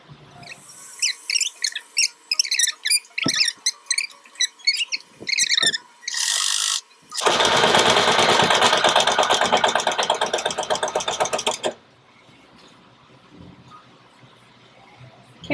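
Sewing machine stitching a curtain valance into a computer monitor cover: bursts of rapid mechanical clatter in short stop-start runs, then one sustained loud run of stitching lasting several seconds before stopping, close and alone.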